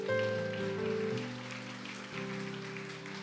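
A church congregation applauds the Lord during a service, a dense patter of many hands filling the room for about three seconds, with sustained organ or keyboard chords ringing steadily underneath.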